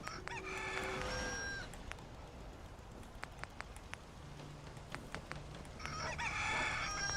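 Roosters crow in the video game Sim Settlements 2. Several loud crows come at the start and again near the end, with a quieter stretch of ambient farm sounds between them.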